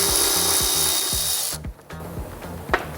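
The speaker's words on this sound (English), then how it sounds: "we're gonna undo this little mount for the brake line, which is another 12mm socket." A 12mm socket on a ratchet undoing a brake line mount on a Toyota Tacoma, quick rhythmic ratcheting clicks up close, breaking off briefly before a few slower clicks and a sharp knock.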